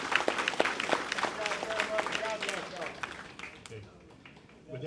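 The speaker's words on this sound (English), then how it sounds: "Please give them a round of applause." Indoor audience at a community meeting applauding veterans who stand, a dense wash of many hands clapping that fades toward the end.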